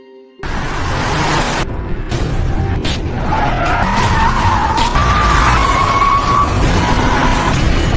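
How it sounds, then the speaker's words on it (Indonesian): A car chase in a film, with loud engines and long screeching tire skids after a brief quiet start, close and intense for several seconds and no talking. "Yoonhee pun langsung mempercepat laju mobilnya, dan mereka pun saling kejar-kejaran"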